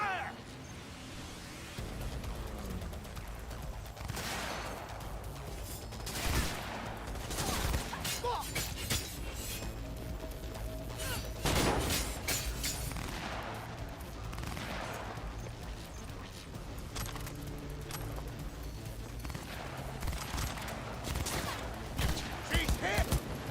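Sustained gunfire in a cyberpunk setting, dense volleys of shots and crackling bursts over about twenty seconds, loud and close, with voices mixed in.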